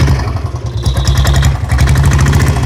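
At the Anthiyur cattle and horse market, a vehicle engine is revved with the accelerator raised. The chugging is loud and very close, with regular low pulses that lift briefly in pitch midway through.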